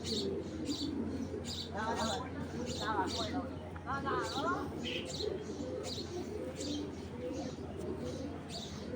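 Pigeons of a tournament breeding line, including a large silver cobra male, coo softly in repeated throaty phrases with scattered chirps over a steady background hum, and someone talks over them.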